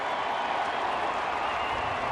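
Crowd at Fenway Park during a Chicago White Sox vs. Boston Red Sox baseball game, a steady broad roar of cheering and applause filling the whole stretch, loud and continuous with no break.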